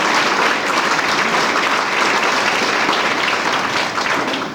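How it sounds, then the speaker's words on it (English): A steady, dense wash of applause from a large crowd at a basketball banquet, sustained throughout without pause. "won't you give him a great round of applause?"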